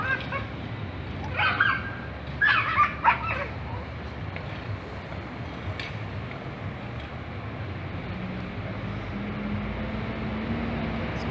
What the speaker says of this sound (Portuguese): Aqui tem uns cachorros aqui